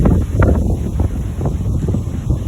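Strong outdoor wind buffets the microphone with a continuous low roar and gusty surges, with faint rustling mixed in.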